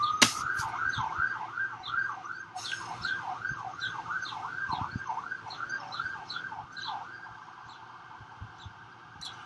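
A wailing siren whoops up and down in steady repeating cycles, loud and continuous, with some faint clatter underneath.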